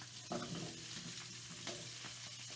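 Italian sausage with carrots, celery and peppers frying in a pan, a low steady sizzle with a couple of stirring scrapes, fairly faint and close, no voices.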